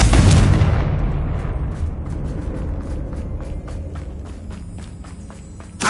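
Confringo blasting spell exploding in Hogwarts Legacy: a heavy boom at the start decays into a long rumbling tail, followed by a run of quick footsteps and a small thump at the end.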